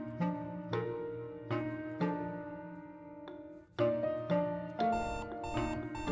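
In the video game Florence, an alarm clock rings as a repeating series of bright, chiming electronic beeps in a steady pulse, rising in intensity toward the end, with no voices.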